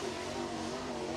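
Race car lapping Crossville speedway during crate-class qualifying, a steady broadband engine drone held at moderate distance for a moment, no voices over it.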